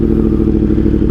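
A Suzuki GSX-R1000 liter bike roars loudly up close at high revs in a steady, thick engine drone while its quick shifter works, with a faint rapid clatter running through it.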